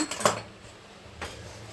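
A metal kadai is set down on a kitchen stove with a bright clank and brief rattle, followed a second later by a softer metallic knock, close and clear in a quiet room.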